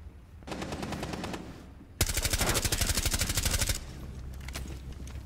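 Automatic gunfire in Rainbow Six Siege, a short rapid burst followed by a longer, louder sustained burst of rhythmic shots, close and alone without talk.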